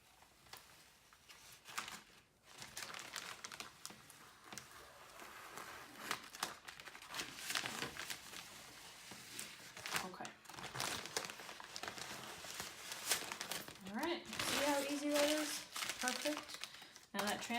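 Transfer paper is slowly peeled off Oracle 813 vinyl, giving a close, continuous crinkling and crackling with small ticks and tearing rustles. A faint voice enters near the end.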